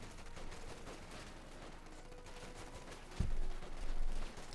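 Machine-gun crew fire in Company of Heroes 2 rattles in dense bursts over a busy battle bed of distant shots, with a heavier, louder stretch of fire and impacts near the end.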